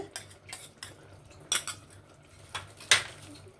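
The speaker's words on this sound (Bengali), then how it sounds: "এবার এটাকে দিয়েও পুরো এরমভাবে ভালো করে মিশিয়ে নিতে হবে" Mutton rezala is stirred with poppy seed paste in a metal pot, giving irregular light clinks and scrapes of a spoon against the pot, with a few louder knocks, close up and with no speech.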